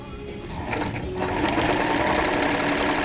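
Close, continuous whirring of a sewing machine straight-stitching elastic onto swimwear, its rapid needle rhythm rising slightly as it gets going and holding steady to the end.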